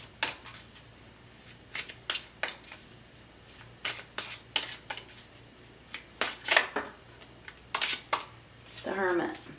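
Tarot cards being shuffled and drawn close up, about a dozen sharp riffling snaps in an irregular rhythm. A short voiced sound comes at the end.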